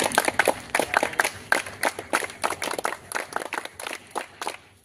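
Audience at a Shiv Jayanti student event clapping in a steady patter of applause for the students, fairly quiet and diffuse throughout.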